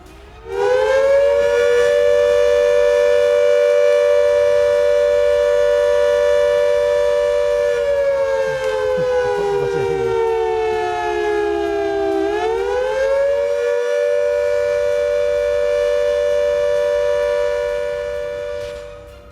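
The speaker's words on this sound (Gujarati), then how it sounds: "એ સાયરન જે છે આપણે ફરી એકવાર સંભળાવી દઈએ કે સાયરન કેવું વાગશે કાલે સાંજે 4 વાગે." An air raid civil defense siren, sounded as a demonstration of a wartime warning, wails loud and close in one long sustained tone that sags in pitch partway through, then rises again before fading at the end.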